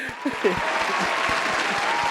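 A podcast studio fills with a steady wash of applause, with a voice briefly audible at the start over the even, sustained clapping.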